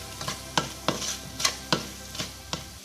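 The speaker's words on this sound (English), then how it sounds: "and give it a good mix" Chicken tikka masala with garam masala stirred in a sizzling pan, a spoon striking and scraping the metal in a fairly regular rhythm of about six strokes over a constant close frying hiss.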